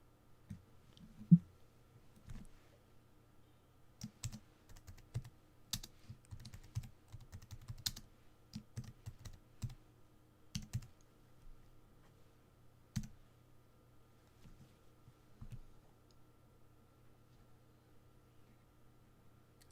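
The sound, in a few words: typing a comment on a computer keyboard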